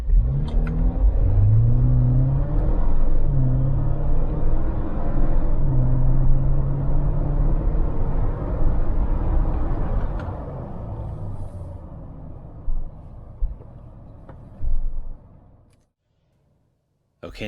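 A Jeep on 37-inch tires with stock 4.10 gears accelerates hard, its engine roaring up through the revs up close before fading to a lower drone and cutting off near the end.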